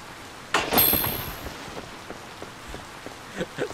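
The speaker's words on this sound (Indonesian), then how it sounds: "mumpung hujan." Rain in the farming video game Harvest Moon, a light steady patter with a few sharper drop hits, heard alone at low level.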